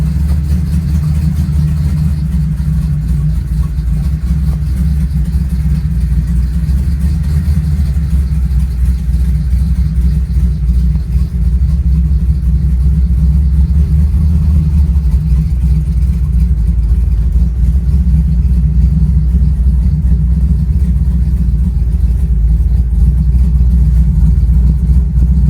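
An engine-swapped 1979 Chevrolet Malibu LS driving with a converter fitted, its engine a deep, steady rumble that stays loud and close throughout with small swells in revs and no talking.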